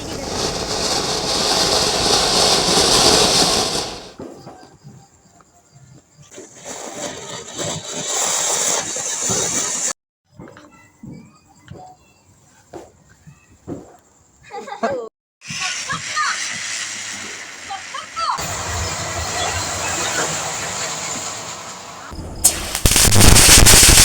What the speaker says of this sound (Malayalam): വിച്ചുട്ടി പൂക്കുറ്റി കത്തിക്കുകയാണ്.